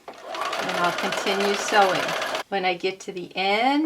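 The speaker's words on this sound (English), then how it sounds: "I've started in on my leader, and I'll continue sewing." A sewing machine stitching a scant quarter-inch quilt seam runs in steady mechanical bursts with a short pause, under continuous close talking.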